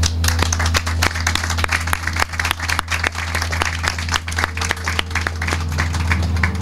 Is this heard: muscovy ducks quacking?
no